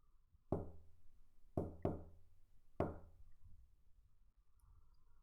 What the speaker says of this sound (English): Someone was clearly knocking on his door.